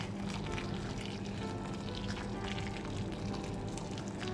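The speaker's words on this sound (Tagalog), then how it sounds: "Lagay na ako ng tubig." Water pours steadily into a cooking pot in a continuous, even splashing stream, close by and moderately loud, with no talking.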